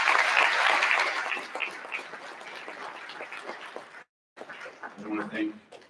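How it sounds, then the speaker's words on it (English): Audience at a school Veterans' Day program applauding the band, loud dense clapping at first that thins and fades over several seconds, then a short gap and a voice speaking. "We give them another round of applause."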